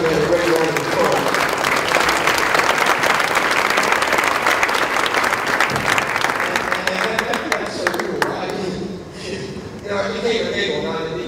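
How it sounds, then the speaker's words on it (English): A dinner audience applauds a group of young Eagle Scouts, dense sustained clapping from many hands that fills the room, thinning into scattered claps toward the end. "I think we should applaud and give these young men a great round of applause."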